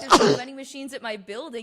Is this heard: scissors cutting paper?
no